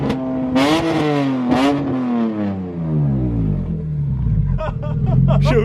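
A BMW M3 fitted with a Supersprint exhaust revs once with a loud, deep roar that winds down through falling engine tones, with voices talking nearby over and after the rev.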